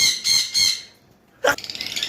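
High-mutation lovebirds give bursts of bright, shrill chirping, three quick calls, then a pause and a fresh, busier run of chattering tweets, close and fairly loud.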